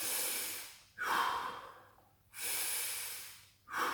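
A person breathes heavily during a dumbbell exercise, with two or three loud, near, airy inhales and exhales in a steady rhythm and no talk.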